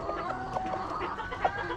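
A very small rooster, about 600-700 grams, clucks softly in short, repeated bursts, close by, with faint background noise.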